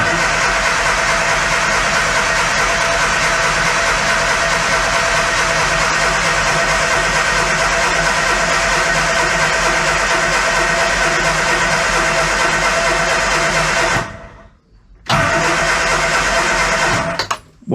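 Classic Mini engine firing up and running, a steady, loud mid-pitched idle with a busy mechanical chatter that holds for around fourteen seconds, cuts out briefly, then catches and runs again.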